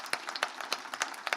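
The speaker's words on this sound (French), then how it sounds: "vous pouvez l'applaudir, bien sûr" Scattered handclaps from a small audience, irregular and close, a brief burst of applause.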